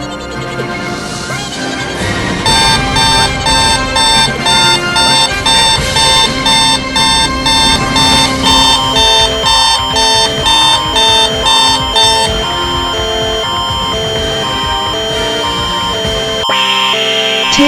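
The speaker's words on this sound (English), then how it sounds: "This is a test of the Elite City Emergency" An emergency alert system test tone comes from a TV that switched on by timer, a loud steady electronic alarm sounding in even pulses for most of the stretch before cutting off near the end, with no one talking.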